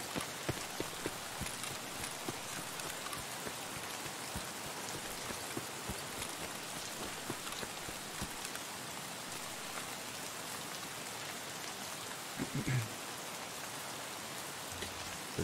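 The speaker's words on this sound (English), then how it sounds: "This fucking rain doesn't help at all, dude." Steady rain pours down in the Escape from Tarkov game on the Lighthouse map, a dense, even hiss with scattered droplet ticks and a brief low thump near the end.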